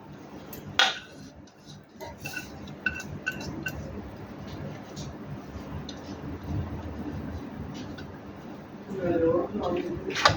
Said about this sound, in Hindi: बर्तन को साफ़ कर लेंगे।